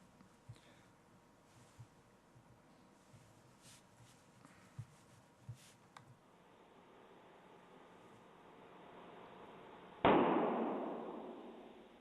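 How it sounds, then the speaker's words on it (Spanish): A balloon is burst indoors to measure room reverberation, a single loud sharp pop near the end followed by a long decaying echo, preceded by soft rustling and small clicks. "Hemos emitido una explosión con un globo"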